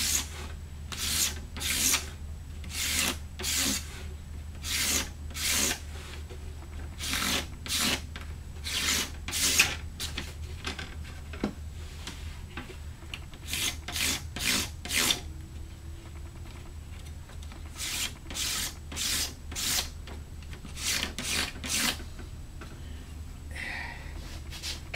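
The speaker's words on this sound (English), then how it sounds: "I'll scrape and clean that surface all up, freshen it up so there's no oxidation on it." Repeated scraping strokes across the wood surface of kerfed lining during guitar-building glue prep, a steady rhythm of close, bright rasping passes with brief pauses between bursts and a low constant hum beneath.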